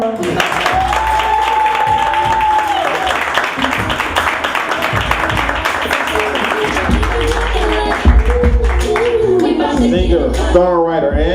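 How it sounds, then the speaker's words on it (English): Talk-show studio audience applauds and cheers in a sustained, loud wash of clapping, with voices and music threaded through it. "Y'all get a round of applause"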